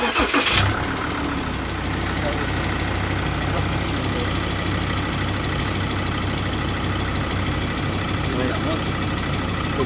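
A car engine idles steadily with a low continuous hum after a brief louder burst at the start, while people talk nearby.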